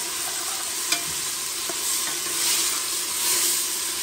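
Pork frying in a pan for a Réunion-style rice dish with three kinds of greens, giving a steady close sizzle with a few faint clicks of stirring and no talking.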